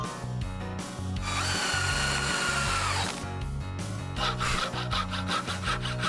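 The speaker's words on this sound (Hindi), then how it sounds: "इधर स्क्रू लगाओ।" A power drill drives screws into a wooden frame in several whirring bursts of varying length, loud and close, with short pauses between runs and no talking.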